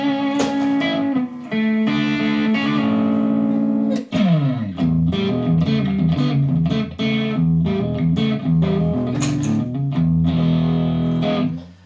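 Electric guitar played through a Tone Master Pro modelling a Marshall JCM800 amp, with crunchy overdriven chords and riffs rendered as 70s-style rock, steady and loud with brief pauses between phrases.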